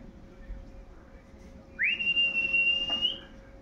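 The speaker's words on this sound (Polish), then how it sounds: "Może gwizdanie słyszy?" A single sharp whistle to call racing pigeons at a loft in Rybnik, Silesia, rises quickly, then holds a steady high pitch for about a second against quiet outdoor background.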